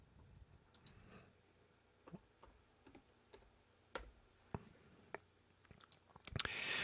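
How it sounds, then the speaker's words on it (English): Keys tapped on a computer keyboard at the main menu of a malware exploitation tool, sparse, quiet, irregular clicks spaced through the clip, ending in a slightly louder cluster of strokes with no talk. "type in the word list and hit enter"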